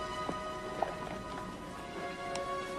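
Horses are loaded for transport in a Western film, their hooves giving a few faint, scattered clip-clops over a quiet background.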